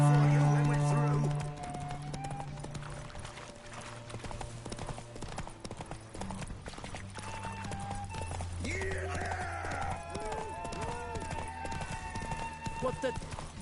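Horses gallop in The Witcher 3 with rapid, steady clip-clop hoofbeats running throughout, set under game music and characters shouting during a race.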